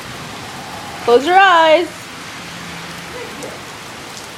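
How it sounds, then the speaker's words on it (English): Steady rain falling outdoors, an even hiss of drops throughout, briefly overlaid by a child's sung or wailing voice and a few words of talk. "Just go stand in the rain then."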